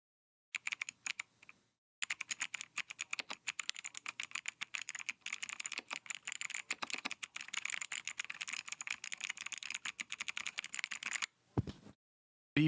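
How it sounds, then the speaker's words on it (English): Rapid, close typing on a new mechanical keyboard with heavy switches, dense bursts of crisp clacks separated by brief pauses, no voices. "Listen to these switches."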